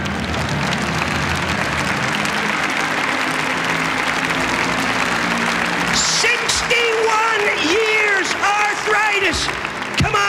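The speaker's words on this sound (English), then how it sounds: "Come on, give the Lord a clap offering." Church congregation clapping a clap offering to the Lord, dense sustained applause from a crowd, loud and steady, then giving way to a voice speaking over the fading claps.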